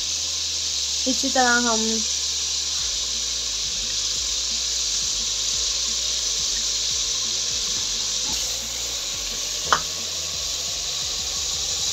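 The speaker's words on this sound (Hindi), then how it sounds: "हम थोड़ा सा इसमें वाटर ऐड करेंगे ताकि जो हमारा मसाला है वो जले ना और अच्छे से भुन जाए।" Steady, loud hissing sizzle of masala frying in a pan after water is added for a Punjabi-style chicken curry. It runs throughout, with a short whistle-like tone near the start and a voice speaking over it.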